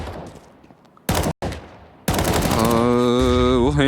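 Scout sniper rifle shots in a Counter-Strike professional esports match, two sharp loud bursts close together amid quiet game ambience, followed by continuous caster commentary.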